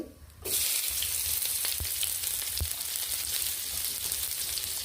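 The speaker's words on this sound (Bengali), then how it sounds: "একটু ভাজা হয়ে এবারে তো পেঁয়াজ কুচি দিচ্ছি" Chopped onion hitting hot oil already crackling with five-spice seeds and a piece of dried red chilli, bursting into a loud, steady close sizzle with a few sharp pops.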